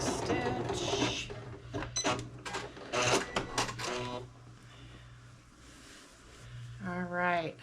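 A sewing machine back-stitches a skirt seam in short, quick mechanical whirring bursts, with pauses between runs, and a voice speaks near the end.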